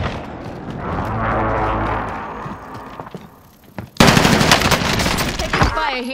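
Video game gunfire in a multiplayer shooter: rapid automatic bursts at moderate loudness, a brief lull, then a louder, denser stretch of firing near the end.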